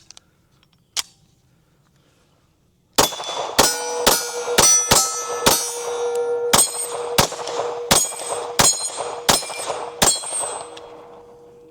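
A Ruger RXM 4.5 full-size pistol fires a steady string of about ten sharp, loud shots from a Gen 5 magazine, each with a metallic ringing tail, after a few seconds of near silence and one earlier click.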